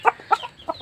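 Kabir and Rhode Island chickens give a few short, sharp clucks in quick succession, close and fairly clear.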